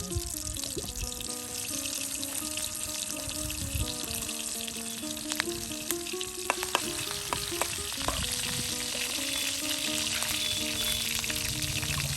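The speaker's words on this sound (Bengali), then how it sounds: "অল্প পরিমাণ তেল দিয়ে রসুনটাকে ভালো করে আপনার বেজে নিচ্ছে" Garlic fries in a little oil, a constant loud sizzle with scattered pops and crackles over a busy background of tonal music, lasting steadily throughout.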